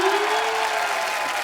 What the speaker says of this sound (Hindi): रहने दो। तालियां।